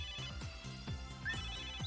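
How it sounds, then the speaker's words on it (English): The N-Gear phone ringtone from the video game Megadimension Neptunia VII plays alone as a bright, repeating electronic melody with a steady, rhythmic ringing pattern, clear and fairly loud. "That's my N-Gear's ringtone."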